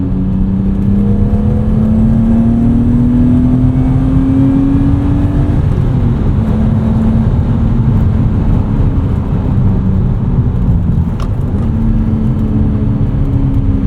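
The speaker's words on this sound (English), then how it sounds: "These old inline-sixes sounded so cool." The inline-six engine of a 1991 E34 BMW M5 hums and revs steadily from inside the moving car, pitch rising smoothly then settling, with a constant rumbling drone and faint fan whir.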